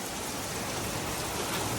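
Heavy rain pours steadily at night in a village, drumming on a parked car and the surroundings as a dense, constant hiss with no pauses.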